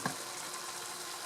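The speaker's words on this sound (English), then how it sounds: "And it's boiling briskly now, so I'm going to take the lid off." Liquid boiling briskly in an open pot on the stove, giving a steady close bubbling hiss with a small knock at the start and no voices.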